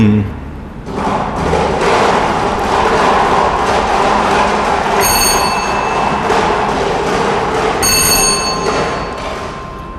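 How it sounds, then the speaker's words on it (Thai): A Lao lottery drawing machine spins loudly and steadily for several seconds, a continuous mechanical rumble and rattle with bright ringing tones breaking through partway, filling the hall at close range. "หมุนอุปกรณ์เลขเสียงประจำหลักเป็นครั้งที่1"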